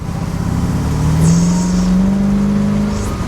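A 1920 Ford Tudor with a V8 engine accelerates smoothly, its engine note climbing steadily in pitch, heard from inside or close by.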